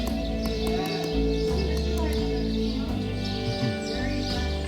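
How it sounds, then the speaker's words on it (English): Horse neighing with hooves clip-clopping, a whinny and hoof beats heard among birdsong and background sound. "Sean, do you like horses?"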